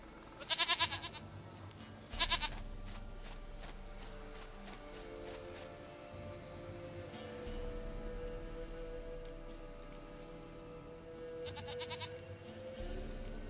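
Goat bleats from the video game The Witcher 3: Wild Hunt, two short, loud cries near the start and another burst later, over a steady low in-game ambience.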